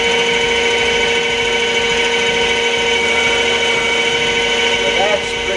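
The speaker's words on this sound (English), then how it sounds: "you can just go in there and actually give it a skim or a little trim with the bit" A power tool bit trims a rotor oval jig, giving a steady, high mechanical whine with a constant hum beneath it that runs continuously at close range.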